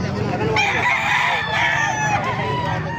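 A black and gold bulik gamefowl rooster crows loud and close, one long drawn-out crow filling the moment, with farmyard background beneath.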